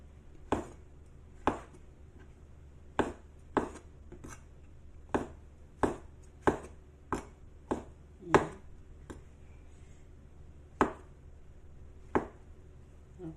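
A knife slicing mushrooms on a cutting board, thick slices for buttered mushrooms: a dozen sharp, separate chops land at uneven intervals, close and fairly faint, with no one talking.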